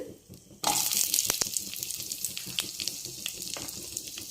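Cinnamon, cloves and cardamom fry in oil in a pan for hotel-style paneer butter masala, a sudden loud sizzle that settles into a steady crackling hiss with sharp pops scattered throughout.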